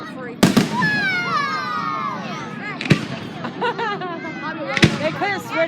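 Fireworks going off outdoors with sharp loud bursts at intervals, rising whistles and crackling between them, while a crowd of people talks and exclaims throughout.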